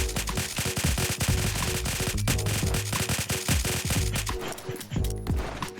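Pistol gunfire in the VR shooter Contractors VR, fast repeated shots cracking in quick succession and overlapping into a sustained volley, loud and close throughout.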